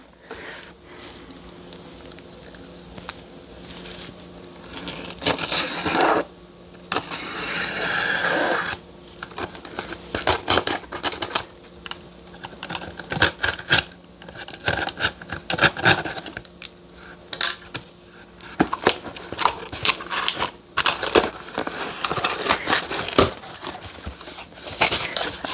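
A parcel holding an Insta360 Flow smartphone stabiliser is opened, with close, irregular crinkling, tearing and rustling of packaging that comes in busy, loud bursts throughout, with no speech.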